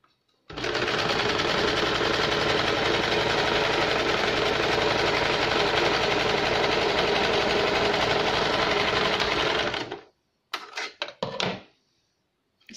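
Sewing machine stitching a strip onto a tux blouse, one long steady run of close, loud stitching lasting about ten seconds, then a few brief clicks and bursts as it stops.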